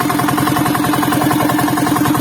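Close and loud, a diesel engine keeps running after being splashed with water, its rhythmic clattering idle pulsing evenly throughout with no one speaking.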